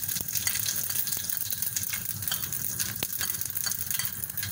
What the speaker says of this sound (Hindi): ये सरसों का तेल मैंने अच्छी तरह गरम कर लिया है, एक प्याली सरसों का तेल है। अब मैं इसमें ऐड करती हूँ ज़ीरा।